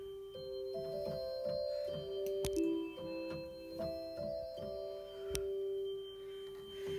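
Bright, tinkling electronic organ solo notes in a high register from a two-foot stop, played as a moving melody with light percussive key attacks, alone and fairly clear.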